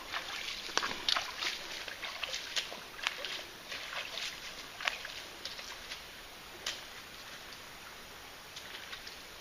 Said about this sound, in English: we're crossing the creek again